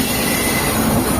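A passenger train rushing past close by on a track in Kendrapara, a loud steady roar of wheels and rail noise filling the moment without a break, with no talking.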